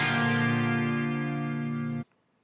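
Sustained guitar chord reamped through a low-gain Boss chorus pedal, ringing bright and shimmering for about two seconds before cutting off abruptly into near silence.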